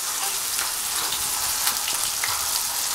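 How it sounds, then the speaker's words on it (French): Around thirty spring rolls (nems) deep-frying in hot oil, making a dense continuous hiss and bubbling sizzle throughout, close and steady with faint crackles. "Et là on en aura en tout pour à peu près 5 minutes pour frire une trentaine de nems"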